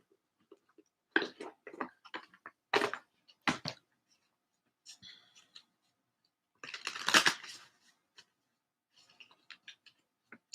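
Bursts of card shuffling: quick riffles and crisp flicks, separated by quiet gaps, with one longer riffle near the end.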